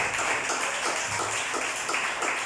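A church congregation claps during a sermon, steady rhythmic clapping at moderate distance with no talking over it.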